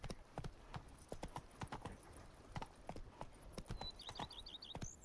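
Horse hooves clip-clop at a quick, uneven trot in a video game, close and fairly quiet, with a brief high-pitched chirping sound near the end.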